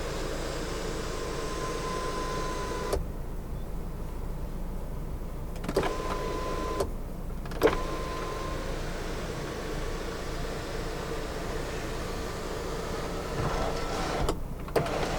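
A steady electric motor hum from the panoramic sunroof of a 2020 Volvo XC90 T8 Twin Engine Inscription Plus as it opens, running continuously inside the quiet cabin with a few small clicks along the way.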